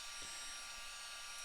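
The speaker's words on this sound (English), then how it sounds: "So I will use the blow dryer to dry this so we can keep working." A hair dryer blows steadily on a watercolour painting of a calm English harbour scene, a continuous close whoosh with no talk.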